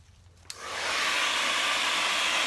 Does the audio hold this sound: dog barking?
no